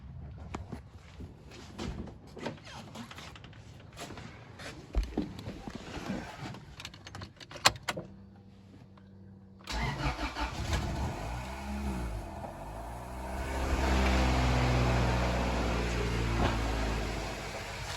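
Honda Civic with a swapped B18C5 Type R engine, with clicks and handling noises first, then the engine cranking and catching into a steady, fairly quiet idle close by.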